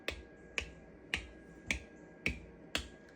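Six crisp, evenly spaced taps on metal canning jar lids during a seal check, each giving a short ringing ping, close up with no talking.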